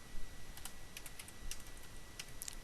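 Quick, light clicks of typing on a computer keyboard come in short irregular bursts, close and fairly quiet against a faint background hiss.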